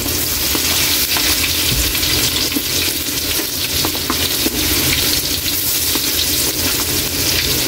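Ginger frying in a pan makes a loud, close, continuous sizzle, even and unbroken throughout, with light stirring mixed in.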